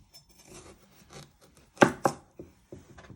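A knife chops the ends off a carrot on a cutting board, two sharp close knocks standing out amid quieter rustling and small taps.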